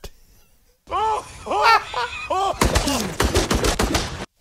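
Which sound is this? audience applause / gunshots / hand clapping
gunshots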